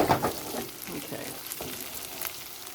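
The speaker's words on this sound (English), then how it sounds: "Let those fry up." Organic medley potatoes frying in a pan at home, a steady close sizzle with a few stirring scrapes near the start, no voices.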